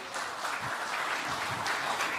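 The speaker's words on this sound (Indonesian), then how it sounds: "mana kita berikan tepuk tangan yang meriah" A crowd at a political gathering at the PDIP party headquarters gives a minister a round of applause, heard as a soft, continuous wash of clapping that stays fairly distant and even from start to finish.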